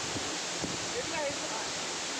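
Steady broadband rushing of flowing river water fills the clip, even and continuous, with faint indistinct sounds over it.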